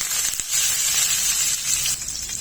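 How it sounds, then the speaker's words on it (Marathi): Garlic, green chili and curry leaves sizzle steadily in hot oil in a pan, a close, continuous hiss with no talking over it. "लसूण मिरची कढीपत्ता तेलावर थोडं परतून घ्यायचंय"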